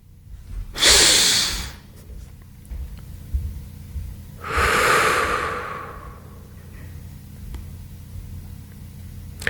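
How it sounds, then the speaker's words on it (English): Two slow, deep breaths drawn in close to the microphone, each a long airy inhale lasting over a second, separated by quiet with a faint low background hum. "Take a deep breath."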